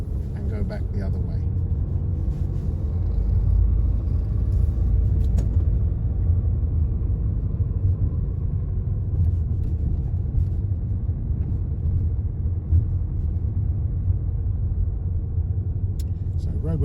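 A car turns through a roundabout on a driving test route near Chilwell, Nottingham, heard from inside the cabin as a steady, loud low engine and road rumble with a muffled voice underneath.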